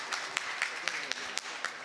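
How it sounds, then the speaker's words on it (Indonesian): A conference audience applauds in a hall, a steady patter of many hands with a few louder individual claps standing out, moderately distant and continuous for a couple of seconds. "Tepuk tangan untuk Ibu Evi."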